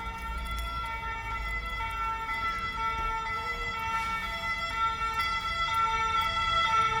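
French police car sirens wail steadily, rising and falling in pitch, moderately loud and sustained throughout with a low rumble underneath and no talking.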